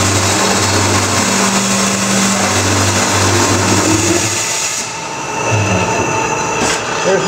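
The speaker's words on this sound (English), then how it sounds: "I want to advance my material just past my blade to do a trim cut" A Scotchman CPO 315 HFA CNC automatic cold saw making a trim cut through material, a loud steady machine drone with a low whine that eases and shifts near the end.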